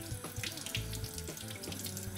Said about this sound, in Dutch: Gewoon onder de kraan krijg je dat heel goed voor elkaar.